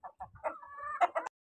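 Pet hens cluck in their coop, giving a quick series of close, nasal clucks that run into a drawn-out cackle, then a few final sharp clucks. No one is talking.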